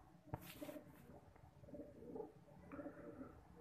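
A Chapra breeder pair of pigeons gives soft, low cooing phrases in a quiet room, with a sharp knock at the start and faint rustling between calls.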